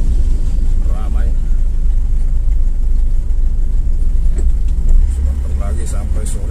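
Road traffic with passing dirt trucks on a damaged, cracked concrete road, a continuous loud engine rumble and road noise with vehicles rolling by close, heavy low droning throughout.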